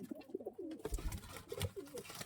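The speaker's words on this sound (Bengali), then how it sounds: "কালো পায়রা, কালো পায়রা" Pigeons coo softly in a loft, several low rolling calls repeating under faint background noise and handling sounds.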